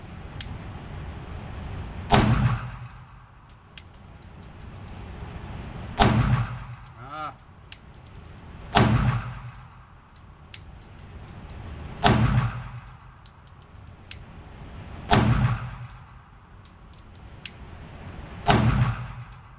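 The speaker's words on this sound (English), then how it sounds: "What a soft shooting gun." A SIG P226 Mk25 pistol fired in double action at 10 yards on a range, six sharp loud shots spaced about three seconds apart, each with a brief ringing tail, and no talk.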